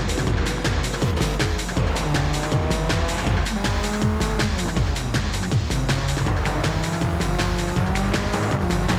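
A race car speeds around a track, close and loud, its engine rising and falling through rapid gear changes while tires squeal through the corners.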